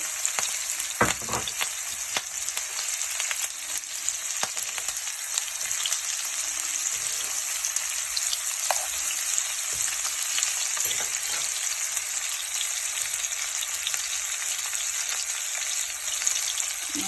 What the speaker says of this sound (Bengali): আমি পেঁয়াজ, একটু বড় পেঁয়াজ কুচি এক সাইডে দিয়ে দিব।